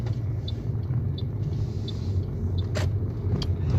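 Steady road rumble of a car from inside a vehicle at a street turn, continuous and moderately loud, with a brief brighter swell near the middle as traffic passes.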